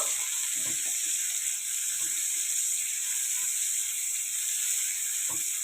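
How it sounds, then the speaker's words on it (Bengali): Chopped onion sizzles in hot oil in a home kitchen, a steady loud hiss with faint stirring clatters underneath and no talk. "এরপর দিয়ে দিচ্ছি এর মধ্যে কুচানো পেঁয়াজটাকে পেঁয়াজটাকে কিছুটা ভেজে নেব"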